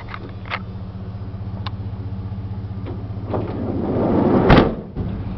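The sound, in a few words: van sliding door operated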